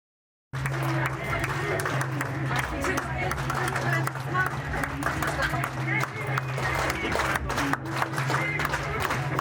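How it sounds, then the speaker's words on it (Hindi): Steady, dense clapping from an audience at a farewell gathering at CTI Ranchi, continuing for several seconds over a low hum and general crowd noise. "तालियां बजती रहनी चाहिए।"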